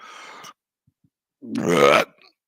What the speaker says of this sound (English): another burp. That's the second of the night.